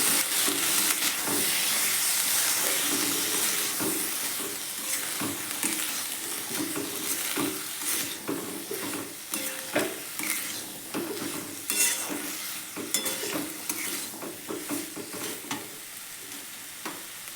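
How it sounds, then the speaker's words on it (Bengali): Boiled chickpeas sautéed and stirred in a pan for ghugni, a loud hiss of frying at first, then frequent scraping and knocking strokes of the spoon over a softer sizzle, close and without talk. "এরপর আমি চানাগুলো দিয়ে করে কিছুক্ষণ আবার কষিয়ে নিচ্ছি"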